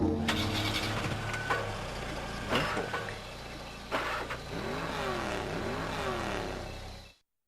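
A car engine in the racing video game Carmageddon revs and accelerates with loud bursts and wavering pitch sweeps, ending abruptly in silence.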